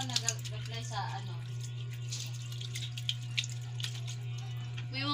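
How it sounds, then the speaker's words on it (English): Tap water runs steadily into a sink while hands are washed, a soft continuous splash with a few small drips and clicks, under a low steady hum, with no talking. "Then we will wash our hands with water."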